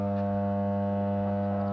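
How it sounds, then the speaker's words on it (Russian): Malysh M submersible water pump running with a steady, loud electrical hum and strong tonal drone, continuous and unchanging throughout, with no voices. "Легкая вибрация чувствуется на гудение машинки."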